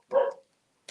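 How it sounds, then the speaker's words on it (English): A single sharp dog bark sounds indoors, fairly close and moderately loud, followed by silence and a faint click. "Guys, sorry about my dog barking, by the way, as well."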